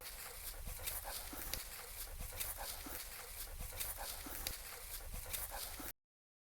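Wire-haired pointer searching for truffles, giving off steady sniffing and panting breaths with faint whimpers and footfalls, close and moderate in level, without voices.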